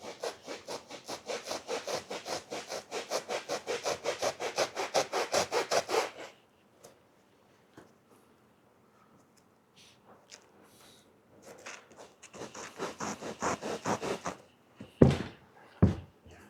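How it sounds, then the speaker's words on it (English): A hacksaw blade rasps back and forth across motorcycle seat upholstery in fast, even strokes, loud and close, falling quiet for several seconds before another burst of scraping and a few sharp knocks. "Isn't that a hacksaw blade?"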